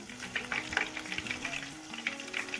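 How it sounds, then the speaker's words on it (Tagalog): Breaded seafood sticks deep frying in hot oil for tempura, a steady soft sizzle with scattered bright crackles and pops, fairly quiet and close, no voices. "deep fry it until all our seafood stick are finished"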